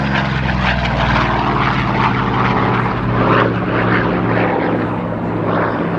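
A Corsair propeller fighter flies at the IWM Duxford airshow, its piston engine giving a loud, steady droning roar that holds throughout with a slight swell near the middle.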